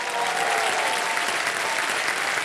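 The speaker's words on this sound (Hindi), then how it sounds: "जब इधर जाएंगे तो ताली बजेगी" A television quiz show studio audience breaks into sustained applause, a dense, even wash of clapping that holds loud and steady throughout.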